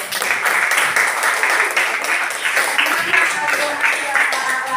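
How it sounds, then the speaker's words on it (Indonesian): Clapping from a classroom group of students, a loud, dense and continuous patter of hands lasting several seconds with a bit of voice mixed in. "Boleh tepuk tangan."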